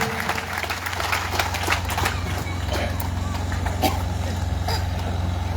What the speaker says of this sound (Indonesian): Kita jemput dengan tepuk tangan yang meriah.